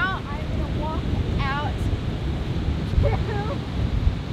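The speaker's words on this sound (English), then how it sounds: "as you can see, it's super windy" Strong gusting wind buffets the microphone at Fickle Bay Beach in Port Stephens, NSW, Australia, at very low tide, a steady broadband roar throughout with people talking over it.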